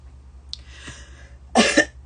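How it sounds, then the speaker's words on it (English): A few coughs in a quiet room: a faint short cough and throat noise early, then a louder double cough near the end, over a low steady hum. "I apologize for the coughing."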